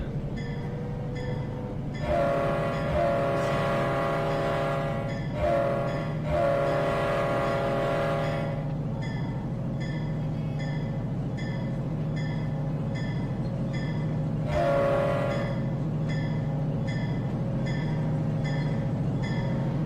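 A locomotive straining to pull loaded granary cars in the Trainz 12 railroad simulator, a droning diesel engine with tonal horn-like blasts, steady rumble and clanking throughout, no voices.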